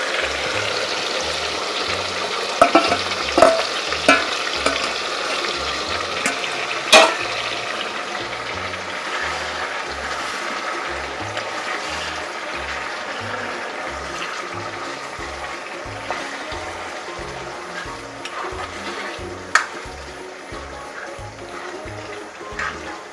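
Chicken pieces coated in spices dry fry in a generous amount of hot oil for an Assamese dish, giving a loud, continuous sizzling hiss with a low rhythmic bubbling beneath it and occasional sharp pops.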